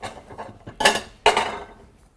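A plate is picked up and set down in a kitchen during meal preparation, with two sharp ceramic clinks about half a second apart following softer handling sounds, close and alone.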